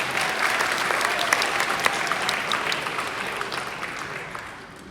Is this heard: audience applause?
yes